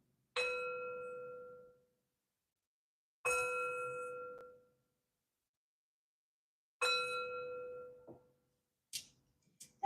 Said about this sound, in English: And 3 chimes to bring in positive energy.